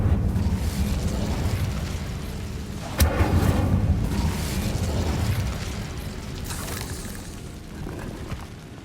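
A fire spell cast in the video game Hogwarts Legacy: a sharp burst around the middle, then a sustained roaring, crackling rumble with a second flare-up later.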